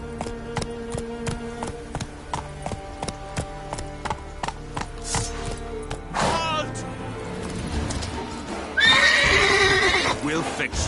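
Roach, Geralt's horse in The Witcher 3: Wild Hunt, clip-clops along in a steady hoof rhythm, then lets out a loud, shrill whinny near the end, with a voice speaking briefly over it.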